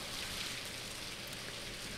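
Dense, even hiss of rain falling in a video game, a steady wash of patter with no breaks and no voices over it.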